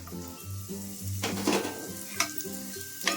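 Spring onions sizzle as they fry with urad dal in a pan, a steady close crackle with a few stirring scrapes and knocks, no voices.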